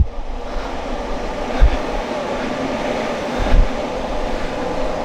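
Odakyu Line train passing near a station, heard as a continuous loud rumble and roar with a couple of heavier low thumps, like wheels crossing rail joints.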